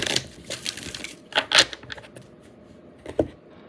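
A new, still-stiff deck of playing cards being shuffled indoors, heard as a quick burst of riffling clicks and a few later card snaps, fairly close and with no talk over it.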